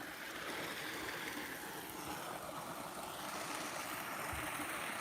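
A waterfall flows at night in Blackburn, heard as a soft, steady rushing of water from some distance, faint and continuous with a low rumble beneath and no voices.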